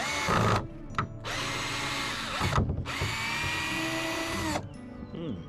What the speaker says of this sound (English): Put this in reverse and take these screws out.